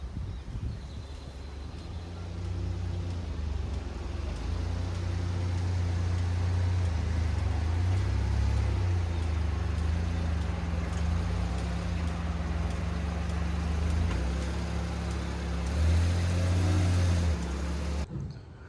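A Kei truck is driving along, its small engine humming steadily at a moderate level with road and wind noise, the drone shifting slightly in pitch now and then, with no talking.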